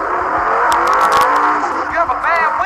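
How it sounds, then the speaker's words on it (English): A loud video game car engine in GTA San Andreas revs and roars, pitch sweeping up and down as it accelerates, with a brief high whine near the end. "each car has its own sounds, sound effects"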